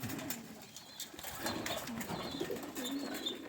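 Pigeons cooing at a pigeon show, soft repeated low coos over ambient bird chatter and faint chirps, steady and close, with no talking.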